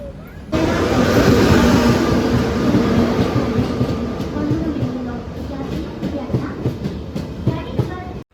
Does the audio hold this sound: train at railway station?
yes